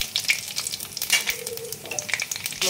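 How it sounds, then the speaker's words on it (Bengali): Panch phoron spices sizzle in a little hot oil while a taki fish curry with taro is being cooked: a close, crackling fry with bright pops and spits, rising and falling as the pan is stirred. "একটু তেল দিচ্ছি, 5 ফোড়ন দিলাম"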